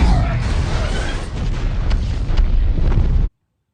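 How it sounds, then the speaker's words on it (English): Loud, sustained explosion at the Capitol building from a bomb hidden in a wheelchair in Batman v Superman, a dense roaring blast with crackling debris filling the whole stretch before cutting off abruptly. "and then everyone blows up and dies."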